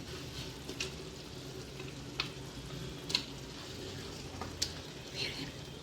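Quail pieces, washed with turmeric and dusted with chili powder, go into masala frying in a pan for quail biryani, giving a steady close sizzle with a few sharp crackles and stirring clinks.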